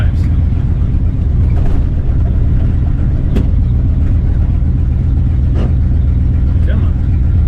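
A 1976 Ford F250 big block truck engine runs with a steady, loud low rumble throughout, with a few brief knocks and clicks over the top.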